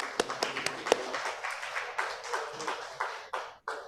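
Scattered clapping from a conference audience, fairly faint and thinning out toward the end with a few last claps.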